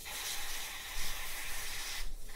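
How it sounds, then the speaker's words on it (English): A continuous close hiss of aerosol spray onto the circuit board of a Dell 2624 gigabit network switch, lasting about two seconds, then cutting off abruptly. "we're gonna hit it with some spray again"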